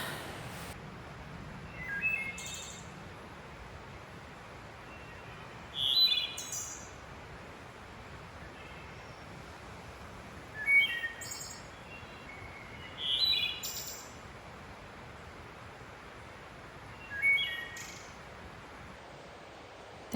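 Birds sing in the Great Smoky Mountains, giving short chirping phrases every few seconds at a moderate distance over a soft, steady forest ambience.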